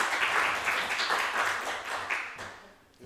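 An audience at a Christian retreat claps in sustained, even applause that thins out and fades toward the end.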